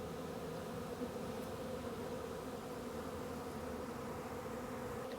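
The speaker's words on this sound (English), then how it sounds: "You can see a lot more of the bees have made it into the hive." A honeybee swarm hums as the bees march into a hive box. The buzzing is steady and continuous at a low, even level, heard close by with no talking.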